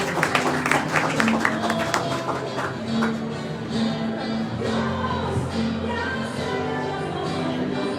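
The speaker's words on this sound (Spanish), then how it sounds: "Un abrazo o un aplauso, por favor, para José." Audience applause at a poetry reading during a festival in Bogotá, a dense patter of clapping from a crowd that starts strong and then carries on more evenly, mixed with some background murmur.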